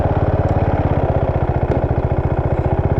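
Husqvarna Vitpilen 701 single-cylinder motorcycle, a roughly 700 cc mono, idling close by with a steady, even thumping pulse and light mechanical clatter, no voices.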